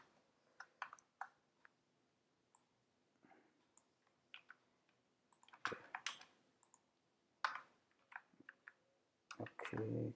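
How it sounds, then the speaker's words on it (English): Irregular light clicks of typing on a computer keyboard, short bursts of keystrokes separated by pauses, fairly close and quiet, with a faint low hum underneath. "I will just write here where underscore dump"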